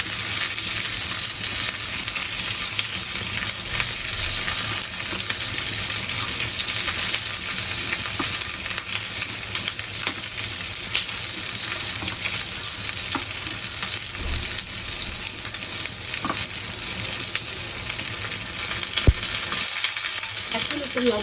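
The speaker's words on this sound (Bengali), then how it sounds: "এখন কাঁচামরিচ দিয়ে তারপর আর একটু তেলে নেব।" Green chillies fry and sizzle steadily in hot oil while being stirred in a pan during a home cooking competition, a continuous close crackle with occasional scrapes and no talking.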